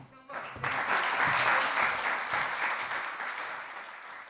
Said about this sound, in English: A big round of applause for Eva